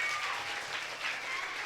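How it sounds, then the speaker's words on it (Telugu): Children applauding at a vacation Bible school event, a brief, steady patter of many small hands clapping at a distance, moderately faint and continuous. "నచ్చిందన్న వాళ్ళు ఇంకా పెద్దగా కొట్టండి క్లాప్స్."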